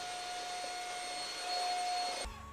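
A vacuum cleaner runs with a steady, loud whooshing roar and a constant whine, rising slightly in strength before its tone cuts off abruptly near the end.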